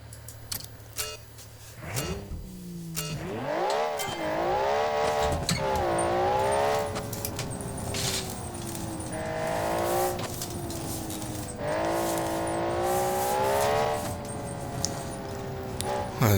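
A GT3-style car with a 6-speed manual, built in Automation and driven in BeamNG, revs and climbs through gears, its pitch rising and dropping repeatedly, with brief clicks and rattles between accelerations; steady and fairly close.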